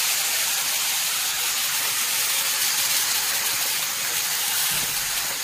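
Onions and whole cumin fry in a pan while chicken curry with curry leaves is made, giving a steady, close, broadband sizzling hiss that carries on without a break.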